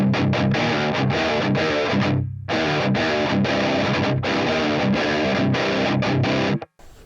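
Heavy distorted electric guitar on a rhythm patch with reverb and compression chugs out a thick, chunky rhythm, steady and loud, with a brief pause before it resumes and cuts off at the end.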